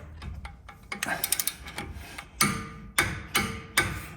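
Clicks and metallic ratcheting of a torque wrench with an 18mm socket tightening bolts on a high steer tie rod and drag link, in irregular sharp bursts close by, several louder clacks toward the end.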